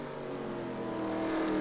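A stock race car in a sim racing game runs down the back stretch at Martinsville, a steady, droning engine note that climbs slightly as it speeds up, heard alone and fairly quiet.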